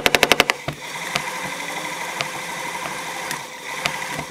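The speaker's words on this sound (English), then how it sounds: "I'm gonna put power to it and it's gonna run like a motor." A Lucas generator run as a motor off a battery opens with a quick burst of six sharp cracks, then settles into a steady mechanical whir with occasional clicks and ticks.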